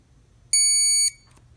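A Presidium/Series dual diamond tester touched to a diamond gives a single clear high-pitched electronic beep lasting about half a second, close and alone over faint background hum.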